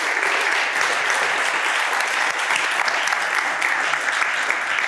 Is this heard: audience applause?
yes